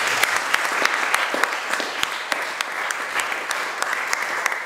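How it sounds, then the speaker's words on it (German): An audience applauds at a talk show, with steady dense clapping and a few sharper individual claps standing out throughout. "Das ist ein Applaus wert."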